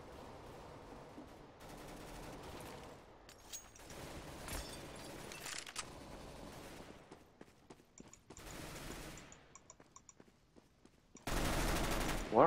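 Bizon submachine gun in CS:GO firing in repeated bursts through a busy match, with a loud sustained volley close up at the end.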